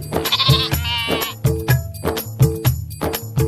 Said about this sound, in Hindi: लेकिन भेड़ें अपनी जगह पर खड़ी रहीं।